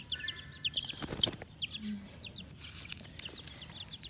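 Backyard chickens named Ash and Daffy, feeding on wet seeds from a long-neglected fall plant, give soft clucks and short squawks, with bright chirping birds nearby and quiet outdoor ambience.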